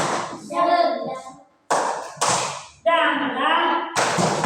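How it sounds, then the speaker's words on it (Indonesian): A class of third-grade children doing a 'tepuk semangat' clapping cheer, with chanted voices broken by a few sharp, evenly spaced claps close by. "Tepuk hebat dulu untuk anak kelas 3"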